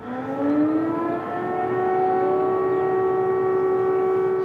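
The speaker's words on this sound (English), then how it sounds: "Air raid sirens blared out across the capital." Air raid sirens wail across the capital during an invasion. One loud siren sweeps up in pitch and then holds a steady drone, with other siren tones layered behind it.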